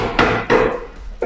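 Hammer blows while seating a 38.5x12.5-16 mud-terrain off-road tyre on a Toyota Land Cruiser wheel: two or three loud, close, woody thuds with ringing decay, and no talking.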